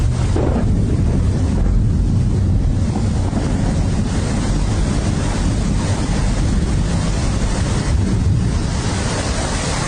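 Heavy cartoon rain pours steadily as a dense, even hiss for the whole stretch, with no voices; no distinct thunderclap stands out.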